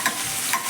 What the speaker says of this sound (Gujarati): પછી છીણેલું બટેટું નાખવાનું છે